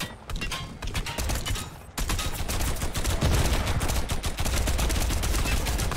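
Rapid gunfire with heavy shotgun blasts rings out during a Fortnite squad battle, a dense, continuous stream of sharp, loud shots close by for the whole stretch, overlapping one another with brief bursts and no clear pauses.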